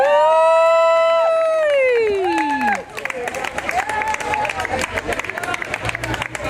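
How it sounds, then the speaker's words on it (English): Audience at a church testimony event breaks into applause and cheering after a voice sings a sustained falling note, the clapping dense and continuous with crowd murmur. "give him another round of applause"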